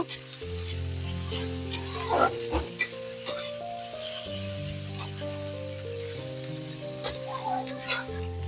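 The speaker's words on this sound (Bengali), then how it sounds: "আর এই তেলের মধ্যে আমি দিয়ে দেব পেঁয়াজ আমি এখানে দুটো পরিমাণে পেঁয়াজ কুচিয়ে দিয়েছি পেঁয়াজটাকে হালকা করে ভেজে নেব" Chopped onions fry in oil in a wok. A steady sizzle carries on with occasional metal stirring clinks, all beneath background music.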